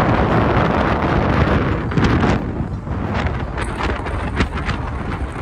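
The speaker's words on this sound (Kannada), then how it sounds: "ಎಷ್ಟು ಜೋರಾಗಿತ್ತಂತ ಗಾಳಿಯ ಶಬ್ದದಲ್ಲಿ ಕೇಳಿ." Strong, gusty wind roars continuously across the microphone on Mullayanagiri peak, a loud, rough rush with no voices.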